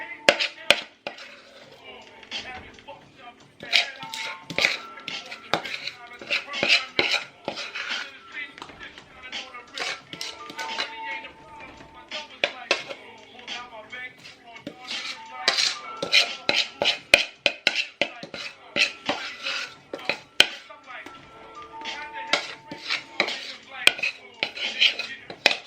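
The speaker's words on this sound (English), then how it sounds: "You can use a spatula to like get all the little bits in." A spatula scrapes banana bread batter from a mixing bowl, making a run of quick, irregular clinks and scuffs against the bowl. The sounds come close and fairly loud, with a few short gaps.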